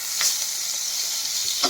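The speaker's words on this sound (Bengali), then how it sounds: "এখন এই তেলের মধ্যে আমি দিয়ে দিচ্ছি পেঁয়াজ কুচি, 5টা কাঁচামরিচ, একটু নেড়ে চেড়ে" Chopped onion and green chilies fry in hot oil with a steady, bright sizzle, and two quick spoon scrapes mark the stirring near the start and end.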